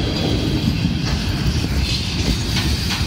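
A train rolls loudly past a railway crossing close by, with a steady rumble and rhythmic wheel clatter throughout and no voices.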